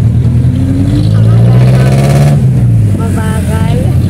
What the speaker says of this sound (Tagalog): Sinauna lang sa sasakyan. Sinauna sa sasakyan na to, guys. Sa jeep.